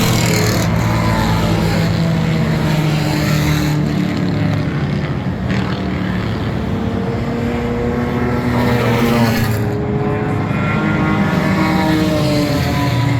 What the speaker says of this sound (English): Last of the cars out there on the track coming in right now.